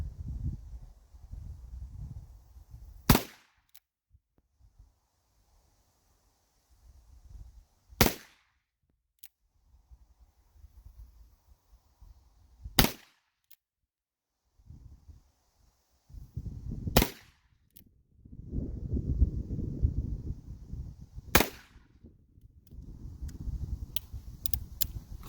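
Five sharp, loud .38 Special black powder revolver shots crack out at a range, spaced several seconds apart, with faint rustling and handling noise between them.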